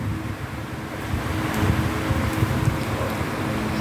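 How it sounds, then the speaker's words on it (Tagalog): Strong typhoon wind gusts buffet the microphone at the seaside in November, a loud, continuous rushing roar with low rumbling buffets and no talk. "malakas po ang bagyo ng tabing dagat sa November"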